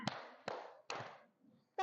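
A teacher claps her hands during a classroom ice-breaking counting game. Three sharp, evenly spaced claps ring out in a reverberant room at modest volume, and a voice starts just at the end.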